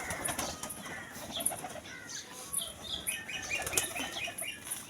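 Pigeons take off from their coop in the morning and head for the forest, wings flapping and rustling continuously with faint bird calls mixed in, a soft, busy flurry heard from nearby.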